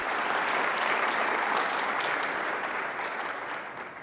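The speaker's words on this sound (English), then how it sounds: "please join me in giving a round of applause to our panelists" An audience at a healthcare leadership panel gives a round of applause for the panelists, even, moderately loud clapping from many hands that holds steady and begins to fade near the end.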